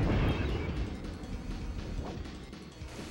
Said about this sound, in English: When the window shatters, it's time.